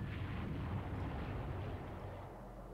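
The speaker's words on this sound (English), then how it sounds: "Hinkle is gonna bomb that battleship" A bomb blast on a battleship in the strategy game Battlefield Europe, heard as a loud, sustained low rumble of explosion that rolls on for a few seconds before easing off slightly, with no talking.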